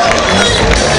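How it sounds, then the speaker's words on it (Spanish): A rodeo crowd in Catarina breaks into a short burst of loud clapping and cheering, dense and close, with a voice mixed in. "¡Fuerte el aplauso!"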